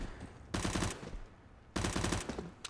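Two bursts of rapid automatic gunfire in Counter-Strike, each a tight volley of several shots lasting under half a second, loud and close with brief game ambience between.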